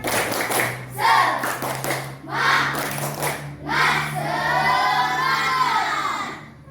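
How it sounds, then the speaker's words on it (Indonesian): Children in a classroom clap a 'tepuk semangat' cheer together, with bursts of rhythmic hand claps and shouted chanting in unison, loud and close, ending in a sustained group yell. "coba anak-anak tepuk semangat"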